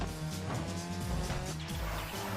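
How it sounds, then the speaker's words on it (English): A rally car engine drones with tire squeal and skidding in Pro Rally on GameCube as the car flips over backwards, a steady close mechanical tone lasting a couple of seconds with no talk. "It just completely flips the car backwards."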